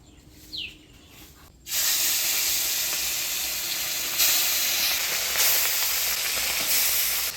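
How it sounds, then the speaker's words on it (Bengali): Hot oil sizzles loudly in a heated kadai in a Bengali village kitchen, ready for frying fish; a short quiet start gives way to a steady, close, continuous hiss that stays strong to the end. "কড়াই গরম হয়ে গেছে, দিয়ে দিব তেল।"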